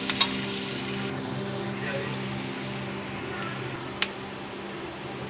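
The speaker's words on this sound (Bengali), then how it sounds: "পেঁয়াজটা একটু লাল লাল করে ভেজে নেব।" Onions fry in oil in a home kitchen pan, a steady close sizzle that runs throughout with a couple of brief clicks, no talk over it.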